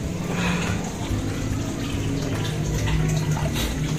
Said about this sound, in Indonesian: Ya, ini juga airnya, dingin men, segar.